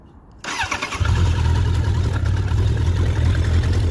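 Suzuki GSF1200 Bandit motorcycle engine cranking and catching after a short quiet start, then settling into a loud, steady, close idle with a deep rumble.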